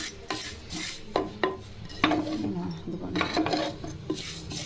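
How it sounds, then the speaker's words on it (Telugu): Sesame seeds are stirred in a hot clay pot after the gas is switched off, giving repeated scraping strokes and light clinks of the spoon against the pot, close by, with only a faint sizzle underneath. "గ్యాస్ ఆఫ్ చేసిన తర్వాత కూడా ఒకసారి ఇలా కలుపుకోవాలి."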